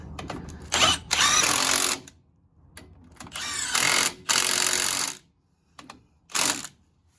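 A power tool drives a socket onto an upper control arm bolt on a 2009 Silverado 1500 4.8, firing in several short whirring bursts separated by pauses, loud and close with no voices.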